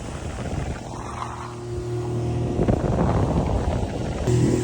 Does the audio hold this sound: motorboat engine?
yes